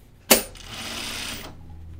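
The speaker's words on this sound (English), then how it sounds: "it's sewing really nicely" A sewing machine stitching a caftan: a sharp click starts a steady whirring run of about one second, which then stops, leaving quiet room tone.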